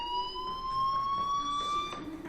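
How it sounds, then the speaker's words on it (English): An electronic fire alarm rings steadily in the video game Life Is Strange, a continuous high pulsing tone heard clearly with no voices over it. "do you hear that fire alarm?"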